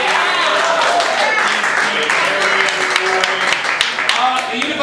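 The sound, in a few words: audience applause for live comedy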